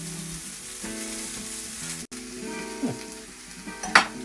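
Onions sizzle and fry in a pan being warmed through without browning, a steady crackling hiss with a brief clatter near the end, heard alone.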